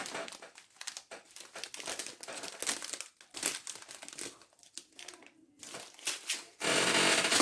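A small plastic packet of diamond painting diamonds is opened up close, with repeated crinkling and rustling in bursts, ending in a louder sustained crackle as the bag comes open.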